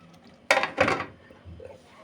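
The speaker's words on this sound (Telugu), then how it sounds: "ఇప్పుడు మూత వేసుకుందాము ఉడుకుతుంది" A lid is set down on a pot of stuffed brinjal curry, giving two quick clattering knocks close by, with a faint bubbling simmer afterward.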